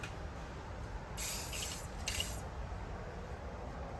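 Two short hissing bursts from a spray can painting an HO scale model railroad structure in a garage, about a second apart, over a faint low background hum.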